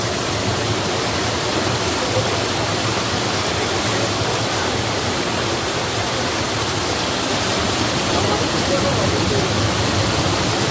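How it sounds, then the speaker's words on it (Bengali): Rajai waterfall near the Meghalaya border pours down from high above in a loud, unbroken broadband rush that stays steady and close throughout. "ঝর্ণার পানি বয়ে যাচ্ছে উপর থেকে আসে।"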